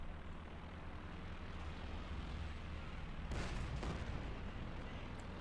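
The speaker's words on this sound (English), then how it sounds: "Another incendiary bombing run on the Jackson being repaired." An incendiary bombing run in the WWII strategy game Company of Heroes 2 produces a steady, low aircraft drone with a short cluster of muffled explosions partway through, heard faintly and at a distance.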